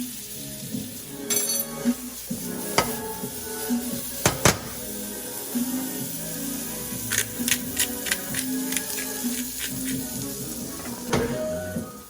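Shiitake mushrooms searing in Irish butter in a pan, a soft continuous sizzle with scattered sharp clicks of utensils against cookware, fairly quiet and close.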